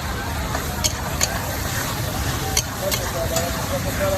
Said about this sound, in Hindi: ये क्रीम ऐड कर